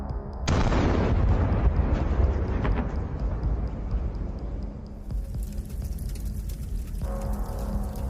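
A Russian tank struck in the engine and turret by attack drones erupts in a sudden loud, close blast, followed by several seconds of heavy, sustained roaring rumble with crackling noise.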